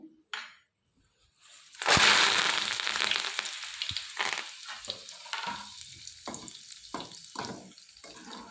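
Curry leaves hit hot oil with a sudden loud crackling sizzle after a brief clatter. The noise stays close and dense, then thins into intermittent spattering pops as they fry for a tea-time okra snack mix, with no voices.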